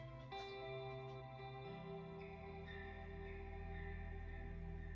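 A song plays with heavy echo and chorus effects on it: sustained, layered tones ring and shift in pitch, smeared by reverb, loud and continuous with no talking over it.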